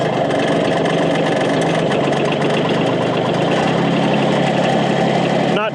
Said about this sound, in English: So hit the glow plugs a little bit and see how she fires.